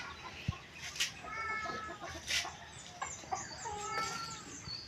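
Chickens cluck repeatedly on a rural farm plot, with a rooster among them; the calls come in short bursts at moderate distance over a steady outdoor background.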